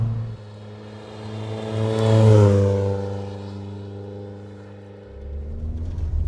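A VW MK1 Golf CTI drives past, its engine rising to a revving peak then easing off before picking up again, moderately loud with a steady droning tone and no speech.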